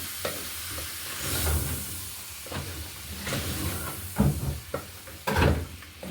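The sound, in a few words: stirring beef stew with green pepper in a pot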